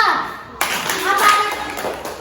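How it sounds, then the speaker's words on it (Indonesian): A burst of applause starts abruptly and carries on as a dense clatter of many hands clapping in a classroom, with voices mixed in. "kita berikan tepuk tangan untuk kelompok 4"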